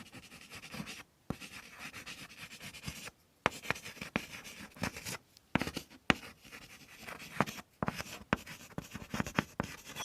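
Hand-written digits for a maths lesson on arranging numbers from largest to smallest, scratchy pen or chalk strokes close up, coming in bursts separated by short silent pauses, no talk.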